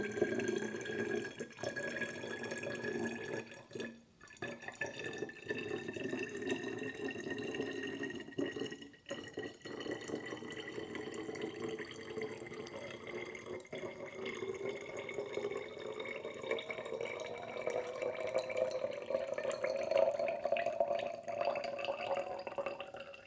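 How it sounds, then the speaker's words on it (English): A homemade syrup for holiday coffee drinks is poured freehand into a container, without a funnel, giving a steady, soft liquid trickle that runs the whole way through, faint and close, with no talking. "I don't have one, so I'm just going to free pour it here very carefully"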